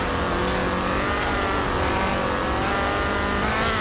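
A Ford RS 1800 rally car in Forza Horizon 4 roars loud and close with a high-revving engine held under load. The buzzy engine note is steady and continuous throughout, with no talk.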